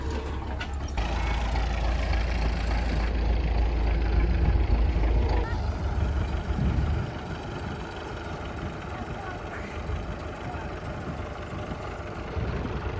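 A heavy tractor engine drones steadily at close range, loud low rumble with a mechanical rattle, easing off partway through and continuing at a lower level, during field disking.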